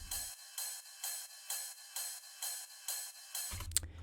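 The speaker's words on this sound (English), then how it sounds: "the last thing we have in the drums group on this track is going to be the ride." Ride cymbal from the drum group of a tech house track, panned right, playing steady bright hits about every half second, alone and fairly quiet, with a low thump entering near the end.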